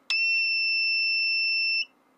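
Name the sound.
inverter low-voltage alarm beep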